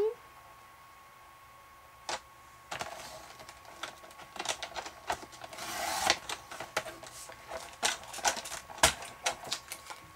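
Clear stamp sheets being cut, heard as irregular sharp snips and clicks that start sparse and grow busier, with quiet stretches between, close and moderately loud.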